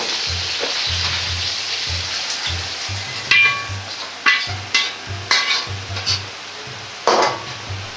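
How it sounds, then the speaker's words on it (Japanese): Vegetables and nuts fry in hot oil in a wok, a continuous sizzle broken by repeated stirring scrapes and clatters. "野菜とナッツを油に入れます。"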